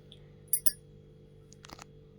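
Two glasses of mango juice clink together twice in quick succession, bright and close, followed by a few softer glassy taps in a quiet room.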